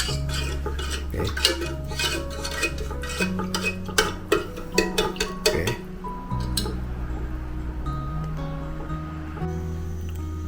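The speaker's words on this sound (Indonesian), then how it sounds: "Dan langsung dikocek dulu, lalu diaduk." Old-fashioned cake batter being mixed in a bowl: a utensil clinks and scrapes rhythmically against the bowl, with a run of sharper taps midway and then quieter stirring under a steady low background hum, with a brief spoken word.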